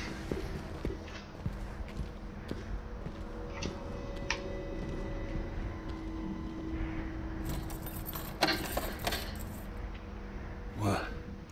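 Keys jangle amid faint ambient game sound in Dishonored 2, a light metallic clink rising near the end over a low background hum, with no talk.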